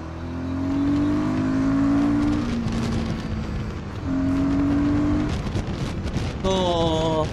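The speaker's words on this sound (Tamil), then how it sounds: "ஆக்சிலேட்டர் லைட்டாக தான் கொடுப்பேன், வேகமாக கொடுப்பேன். Third gear" Royal Enfield Guerrilla 450 motorcycle accelerating hard through the gears, engine tone rising in sustained pulls with a brief dip between shifts and a final rev, loud and close throughout.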